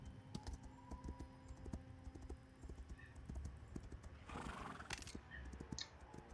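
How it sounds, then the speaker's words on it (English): Horse hooves clip-clop through an MMO video game world, a quiet repeated clopping in the background with scattered clicks and a brief rushing burst midway, no talking. "I just passed by a horse,"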